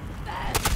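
A big cannon fires in the video game Fallout 76, two sharp loud bursts after a quieter stretch of low game background noise.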